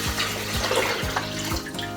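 Filtered water pours into a blender jar holding soaked almonds and maple syrup, a steady splashing, gurgling stream close by with no talking.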